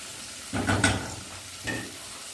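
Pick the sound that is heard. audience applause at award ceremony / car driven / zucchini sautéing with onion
zucchini sautéing with onion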